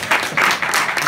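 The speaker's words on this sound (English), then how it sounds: "Come over here, give a round of applause." Audience at a motivational press conference giving a quick round of applause, a brief burst of clapping in short uneven pulses.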